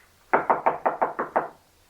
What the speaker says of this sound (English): He knocked.